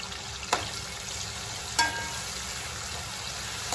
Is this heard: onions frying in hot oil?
yes